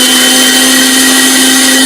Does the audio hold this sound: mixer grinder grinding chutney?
yes